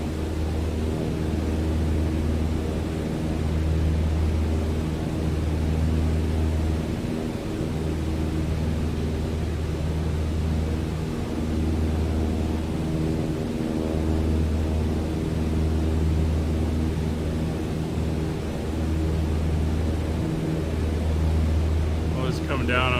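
A light aircraft engine drones steadily in flight in Microsoft Flight Simulator 2020, a constant low hum with a faint throb, unbroken for over twenty seconds, and no voices.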